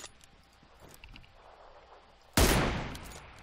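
In PUBG Lite, faint shots and scattered clicks give way to a sudden loud gunshot blast near the end that rings out and decays.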